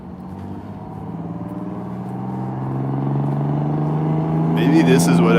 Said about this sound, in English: Here's a white box truck driving out when I get across the street.